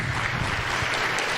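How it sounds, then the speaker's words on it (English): Brief burst of audience applause at a cannabis industry event panel, many hands clapping together in a dense, even patter close by, with no voices over it. "I think you all should give yourselves a round of applause."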